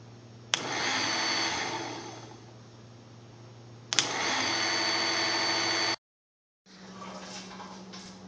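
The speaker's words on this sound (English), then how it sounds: "I can feel that oomph when it turns on. I'm really holding it now. Man, that is a strong motor." A small electric motor from an ABS module assembly spins up twice with a sharp start, running in a steady loud whine for a couple of seconds each time, then starts a third time after a brief pause.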